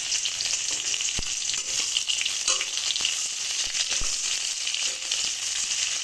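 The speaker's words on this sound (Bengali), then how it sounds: "এই তেলে এইবার পেঁয়াজ ফোড়ন দিয়ে দিলাম।" Onions fry in hot oil for a Bengali fish dish, making a dense, continuous sizzle with scattered crackles and pops, close and steady throughout.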